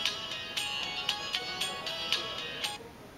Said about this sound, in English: The mobile phone with the system is in auto answer mode, which gives the call automatically after 2 rings.